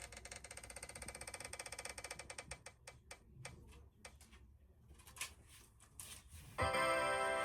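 An online spin wheel ticks rapidly as it spins, the clicks slowing and spacing out until it stops, then a short chime-like sound plays at the end.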